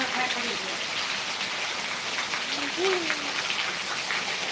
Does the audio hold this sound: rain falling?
yes